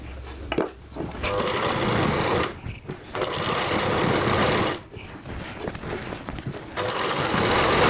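An electric sewing machine runs in steady, fast bursts while stitching a Rajputi kanchali blouse. It is loud and close, with short pauses between runs of stitching.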